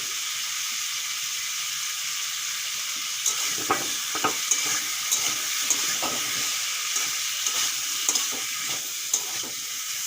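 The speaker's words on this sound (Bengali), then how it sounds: "নারকেল দেওয়ার পরে দু মিনিটের মতন ভেজে নিয়েছি" Coconut paste fries in a pan of ripe cucumber sour curry with salt, giving a steady, loud sizzle, while a spoon stirs with scattered light taps and scrapes through the second half.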